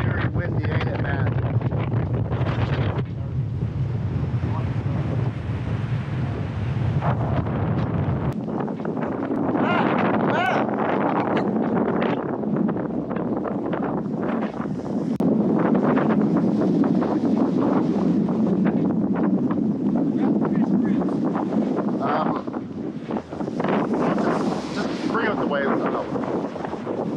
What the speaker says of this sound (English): Even right now, it's very windy